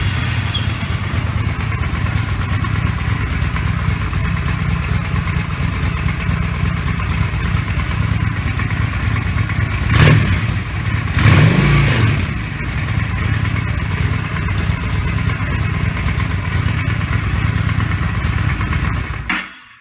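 Honda Shadow Spirit motorcycle engine idling steadily with its stock Honda air filter, a continuous low rumble close by, briefly swelling with two quick throttle blips midway before settling back to idle and cutting off at the end.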